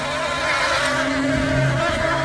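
A swarm of bees over a baseball field during a game makes a steady, dense buzzing drone that holds for the whole stretch, with a tonal hum running underneath.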